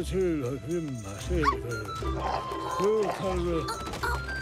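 A dog barks and yips in short bursts close by, with voices talking underneath.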